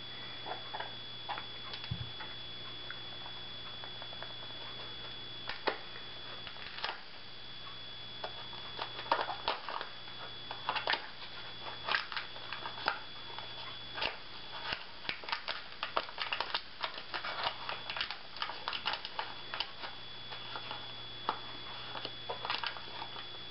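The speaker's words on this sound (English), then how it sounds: "the next thing you want to do is open this box of Jiffy yellow cake mix" A sealed box of Jiffy yellow cake mix being opened, heard as a long run of close, soft crinkles, ticks and paper rustles in irregular bursts over a faint steady hum.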